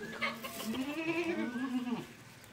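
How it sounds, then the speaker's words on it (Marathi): A goat on a farm gives a single drawn-out, wavering bleat close by, set against faint background noise. "तिथून बकरी बघ"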